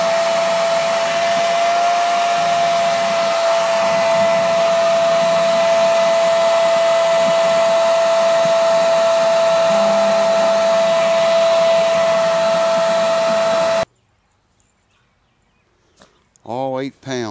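A heat gun blows steadily on a Martin D28 guitar pickguard, a loud, close, even whine with a constant tone, cutting off near the end before someone speaks briefly.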